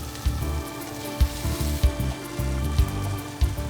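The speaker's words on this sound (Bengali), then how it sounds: "এখন আমরা চিকেনটা ভাজবো" Tandoori chicken pieces frying in hot oil give a steady, close sizzle, with a few short louder bursts of spattering spread through it and no voices.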